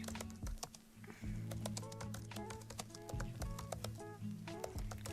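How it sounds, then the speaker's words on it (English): Rapid, uneven clacking of fingers typing on a computer keyboard, close and crisp, with bursts of keystrokes over a quiet steady tonal background. "let's just all enjoy the rhythmical tappity tappity clackety"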